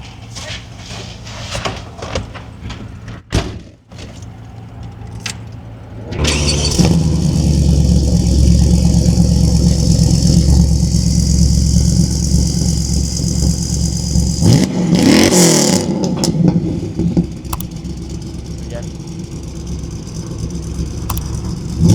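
A 1991 Chevy Camaro Z28 with a catback MagnaFlow exhaust idles, then revs hard with a deep, throaty exhaust roar that stays loud and sustained, with a sharp blip midway and people talking underneath.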